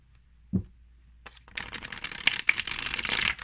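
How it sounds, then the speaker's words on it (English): A Dungeons & Dragons tarot deck is shuffled by hand: a single soft tap, then a quick burst of riffling card edges that builds into dense rapid fluttering, close and clear. "Now, if I go my usual way of shuffling."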